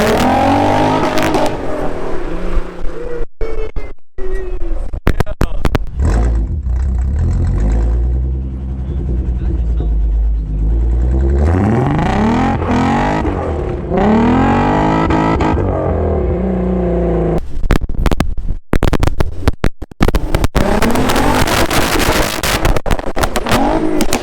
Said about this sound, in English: This is the backfiring, bro, when you hit like a rev limiter.